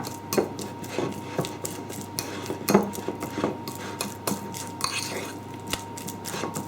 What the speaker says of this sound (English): Just gradually sort of mix it up. Use a fork.